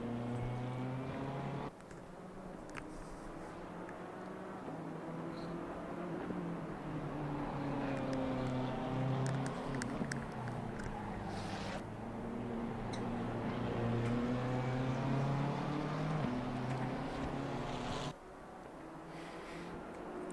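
A BMW GT3 race car's engine drones steadily at Zandvoort in a racing video game, pitch rising and falling through gear changes and corners, with brief dips where the note drops between shifts.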